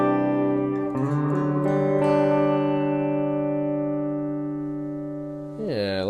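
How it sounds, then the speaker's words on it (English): Sustained guitar chords ring through a Strymon BlueSky reverb pedal set with pre-delay, a new strum arriving around each second before a long, smooth reverb tail that slowly fades, then a short pitch-bending swell at the end. "a good pre-delay here, which you can control when you actually want that reverb to kick in"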